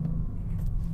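An Audi RS6 V8 engine holds a steady, loud, low rumble as it revs against its soft limiter, close up and without any voices.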